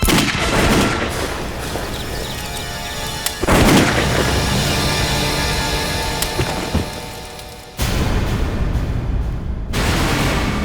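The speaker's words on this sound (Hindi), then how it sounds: "टैंक को ही गोली से उड़ा देता हूँ।" Gunfire blows up a tank in a dramatic TV crime scene, with heavy booming blasts that leave a dense, sustained rumble and two sharp bursts that cut in partway through.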